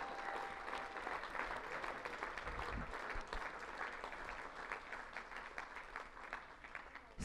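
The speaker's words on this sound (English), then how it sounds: "Let's give Sumi a round of applause." An audience claps for a speaker on a talk show stage, a full, continuous wash of many hands that stays strong and even for several seconds, with a faint murmur of crowd beneath.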